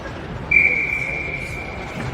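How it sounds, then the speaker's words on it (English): A referee at a youth hockey game gives one sustained, sharp whistle blast of about a second and a half that then fades, set against a quiet rink murmur. "Ref must have told him because it stopped when he blew the whistle."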